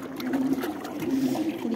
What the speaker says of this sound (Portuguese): Ele corta a água, ele vai muito bem, bem rápido.